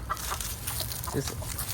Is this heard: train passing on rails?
no